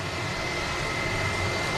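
A KLM aircraft taxies out at Manchester Airport, giving a steady, distant broadband engine roar with a faint high whine, continuous and alone.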